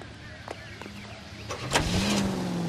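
A car being driven in the video game L.A. Noire, a low engine hum that rises in pitch as it accelerates, with a few brief mechanical clicks and thumps at moderate level.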